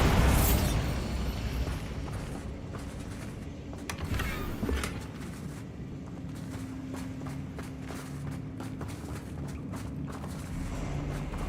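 A Bombarda explosion spell in Hogwarts Legacy: a loud, sudden blast at the start, followed by a rumbling debris tail and scattered footstep-like thuds, with no talk.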